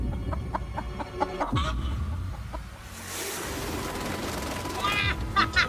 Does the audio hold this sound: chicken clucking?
yes